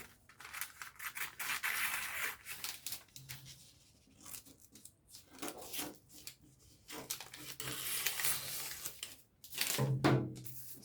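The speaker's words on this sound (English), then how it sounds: "I'm going to cut it out" Scissors cutting out a paper corset pattern draft at a table: soft, irregular snips and paper rustles, close and fairly quiet, with pauses between strokes.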